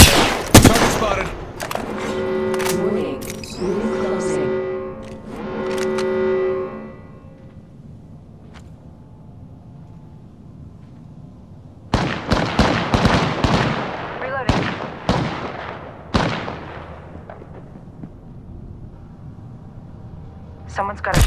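Bursts of gunfire in the battle-royale shooter Apex Legends, loud rapid volleys and single cracks in two clusters separated by a quieter stretch, with game sounds between them.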